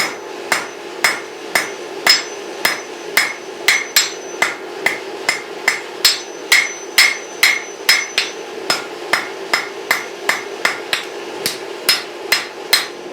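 Hammer blows on a railroad spike being forged into a knife blade, angled strikes thinning the steel toward the cutting edge: a steady, evenly spaced run of sharp, loud metallic clangs, around two per second, close by with no talk.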